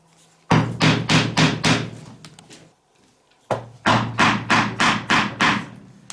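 Rhythmic heavy pounding as product is worked by hand at an off-grid workstation, two runs of six or seven loud, evenly spaced thumps separated by a short pause, close up, no talking.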